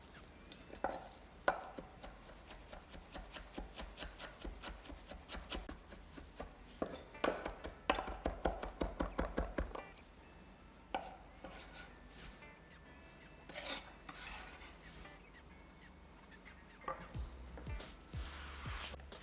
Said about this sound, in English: now I'm going to chop some parsley, just the same way as the coriander